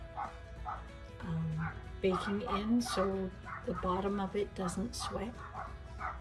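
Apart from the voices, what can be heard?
dogs barking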